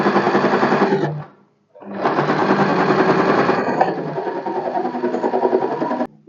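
A sewing machine stitches a lined katori blouse in long steady runs of fast, loud, close rattling, stopping briefly after the first burst before running again at a slightly shifting pace.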